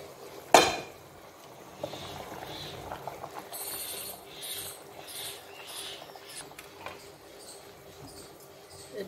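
Mango pulp for kasundi is scraped from a container and poured into a pan, with a sharp knock at the start followed by soft, intermittent scraping and wet scratching sounds close by.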